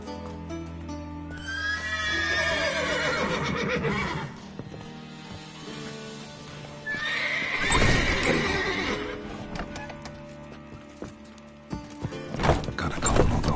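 Horses in the video game The Witcher 3: Wild Hunt whinny loudly twice, long shrill neighs rising and falling, with hooves shuffling and clopping in between and a snort near the end.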